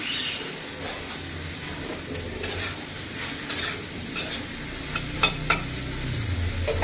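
Cut eggplant (nim begun) fries in hot oil in a pan, with a continuous close sizzle and crackle and occasional sharp scrapes and stirring clicks from a spatula, no voices.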